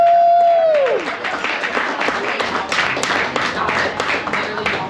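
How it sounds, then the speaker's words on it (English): An audience at a Richmond County Beer Club event on Staten Island breaks into a steady round of applause for Chris of Beer Tree Brewing, dense clapping that follows a brief sustained tone that slides away. "Let's hear a big round of applause for Chris coming all the way down here to Staten Island."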